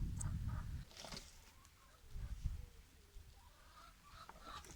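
Hens on a farm cluck in short bursts at a low, close level, with a few soft peeps and rustling between calls and no talk.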